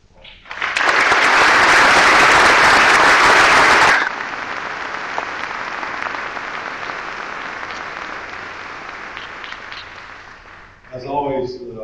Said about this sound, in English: please join me in giving Clark a big round of applause